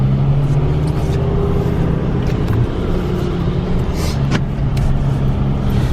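A salvage-repairable 2015 Ford F550 two-wheel-drive rollback truck with a JerrDan aluminum bed rolls along on a test drive, its engine and road noise forming a steady low rumble from start to finish with no talking.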